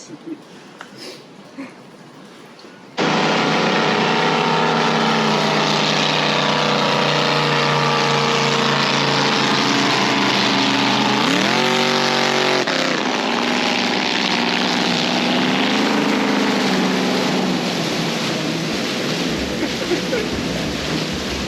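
A motorboat engine roars to life in Oklahoma after a few quiet seconds, then drones loudly and steadily with a brief pitch swell, water rushing beneath.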